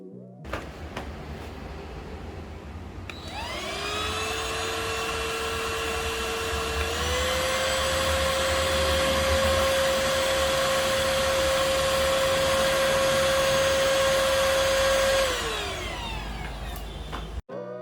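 A Perysmith Xtreme XS1 cordless vacuum cleaner switches on and runs with a steady whine and a moderate hum, rising in pitch partway through before it winds down near the end.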